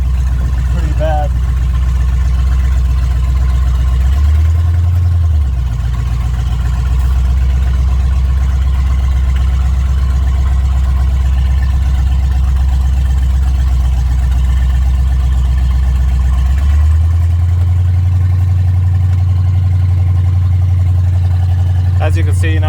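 A 1984 Ford F150 engine idles slightly high, a loud, steady, close rumble that runs unbroken with a brief dip in pitch partway through, with a voice faintly underneath.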